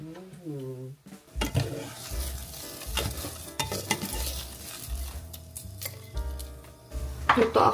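Garlic rice fries and sizzles in a pan while a utensil stirs and scrapes it, with clinks of cookware over a continuous sizzle; a voice briefly sounds at the start.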